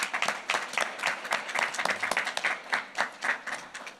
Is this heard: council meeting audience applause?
yes